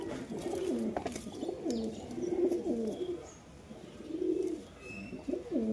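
Newly bought pigeons from a Beldanga market coo repeatedly at close range, soft rolling calls rising and falling in a steady rhythm, with faint chirps overhead and no talking.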